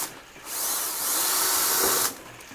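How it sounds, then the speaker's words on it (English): Power drill whirring in a garage: a single burst of high-pitched spinning that starts abruptly, runs steadily for about a second and a half, then stops, fairly close with quiet room noise around it. "What's he doing with that drill?"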